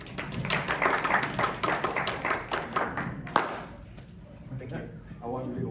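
Audience at a community meeting clapping in a dense burst of overlapping hand claps that gradually thins out and fades, with a lone sharp clap near the end and a voice starting to talk afterward.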